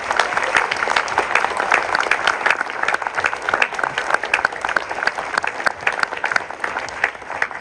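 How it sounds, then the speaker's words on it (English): An audience at a film world premiere gives a huge round of applause, dense steady clapping from a crowd, close and loud, continuing without a break. "I think we need to all give a huge applause to Eden Weiss, or Kafka."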